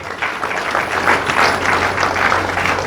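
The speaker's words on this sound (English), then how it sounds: "She deserves a round of applause." Audience applause at a university anniversary colloquium, a full, sustained round of many hands clapping from a large hall crowd, steady and fairly loud from start to end.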